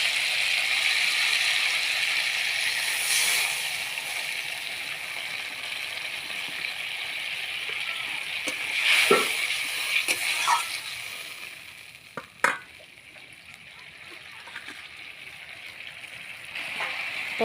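Water is poured into a sizzling fish curry with papaya, giving a steady loud hiss and crackle that settles gradually, broken by a few sharp clinks toward the end.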